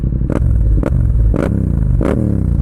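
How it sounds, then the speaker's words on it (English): A Yamaha MT-07 motorcycle with an Akrapovic exhaust rumbles loud and close, with four sharp throttle blips that rise in pitch and fall back to a deep growl. "Listen to this Akrapovic exhaust."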